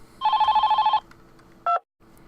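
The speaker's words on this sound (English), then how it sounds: "Whose cell phone is ringing?" Cell phone ringtone in the visual novel game Ikinari Anata Ni Koishiteiru: a close, warbling electronic trill lasting under a second, then a brief second burst before cutting off.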